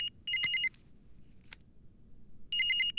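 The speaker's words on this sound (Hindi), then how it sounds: "सर, फोन आया है सर।" Two bursts of an electronic telephone ring, a trilling double tone, loud and close, separated by a quiet gap with a faint click.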